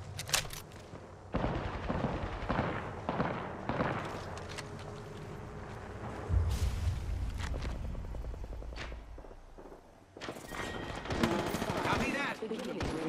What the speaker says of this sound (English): Firing. Putting lead down range.